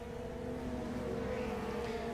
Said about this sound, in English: Let's crank up the noise of the cars a little bit here.